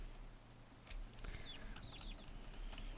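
Faint high chirping peeps from baby geese in the Gosling Life video game, a few quick calls in the middle over a low steady background hum, with no talk.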